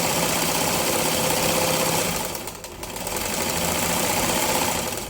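A sewing machine stitches a straight seam on a blouse lining with a steady, close mechanical whir. It dips briefly around the midpoint and then resumes at an even pace, with no talk over it.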